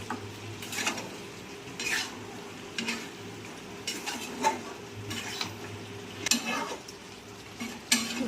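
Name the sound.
stirring mutton kosha in a pan with a little water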